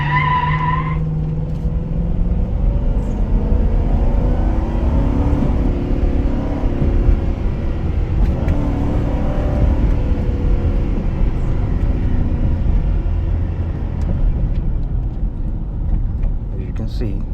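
A 2006 Ford F150 pickup truck accelerating hard on a short test drive, its engine roaring loud and close with a rising, continuous drone that holds strong for the whole stretch.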